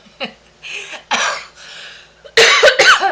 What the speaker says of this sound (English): It's also caused me to have a little bit of a cough.